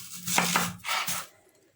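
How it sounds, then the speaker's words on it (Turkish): Knife chopping vegetables, including onions, on a board while preparing pilaki barbunya, a Turkish bean dish: two short bursts of close, dry cutting strokes, then quiet. "doğrama işlemlerine geçeyim"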